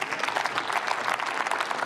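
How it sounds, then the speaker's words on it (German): Applause from the floor of the German Bundestag, a dense, even clatter of many hands clapping together in a large parliamentary chamber, sustained and fairly loud without a break. "der hier Applaus bekommt von allen Fraktionen des Hauses"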